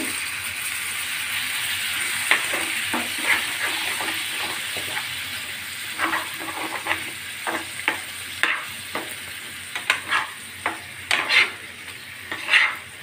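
Curry frying in oil in a pan gives a steady sizzle throughout, with repeated scraping stir strokes that grow more frequent and sharper toward the end, close and fairly loud, with no talk.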